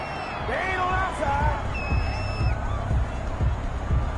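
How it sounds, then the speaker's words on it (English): A stadium crowd in a football video game reacts to a penalty flag, a steady roar of boos and whistles sustained throughout at moderate loudness. "Well, the crowd doesn't like that."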